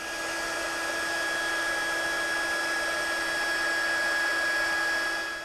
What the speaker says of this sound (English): we'll take our heat tool and we're going to heat set that